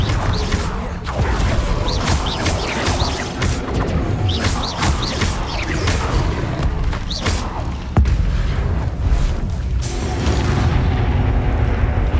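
Fire spell explosions from Hogwarts Legacy gameplay, a series of loud booming bursts and thuds repeating every second or two over a dense, busy game soundscape, with a sharper blast near the middle.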